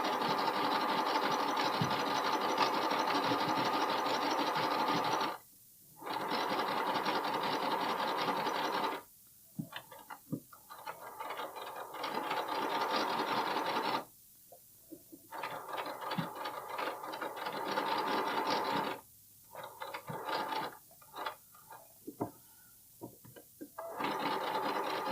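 A domestic sewing machine stitches bralette layers in bursts of steady, close whirring, stopping briefly several times as corners are pivoted or sewn off the edge.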